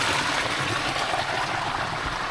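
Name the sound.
natural spring water flowing from the ground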